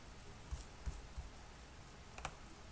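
Three faint, evenly spaced clicks of a computer mouse while filling in an online Canada travel history application, followed by a brighter single click, all over a quiet room hiss with no talking.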